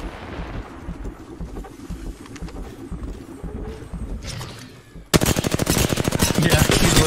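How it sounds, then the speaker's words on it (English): Gunfire in a competitive multiplayer shooter tournament: quieter scattered shots at first, then an abrupt, loud burst of rapid automatic fire that rattles continuously to the end. "He's just shooting this guy."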